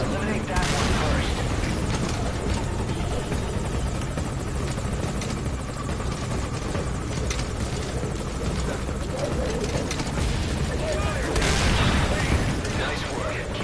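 A military helicopter hovers in Metal Gear Solid V: Ground Zeroes, its rotor roar loud and constant, with bursts of gunfire and booms breaking through and a voice talking over it.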